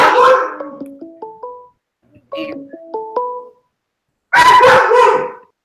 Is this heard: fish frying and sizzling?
no